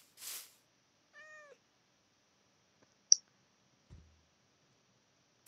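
A cat in the video game Minecraft gives a short, clear meow amid sparse isolated clicks and soft noises, with long stretches of silence between sounds.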